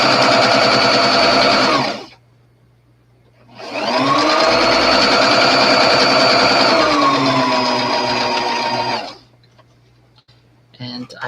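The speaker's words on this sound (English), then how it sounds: "you will be able to see how I'm sewing going in and how it is coming out." A sewing machine stitching a doll dress runs in two loud sustained bursts with a steady whirring hum and a short pause between them, close up, with speech at times.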